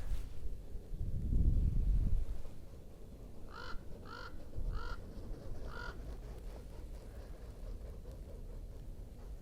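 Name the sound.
birds, crows, wings flapping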